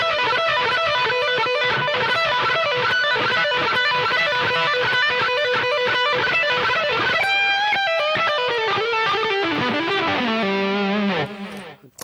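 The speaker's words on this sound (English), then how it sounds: "Another couple of that I use like a blues scale lick that sounds like this" An electric guitar with distortion plays a fast blues scale lick of hammer-ons and pull-offs, a dense run of notes for about eleven seconds before descending to a final note that cuts off abruptly.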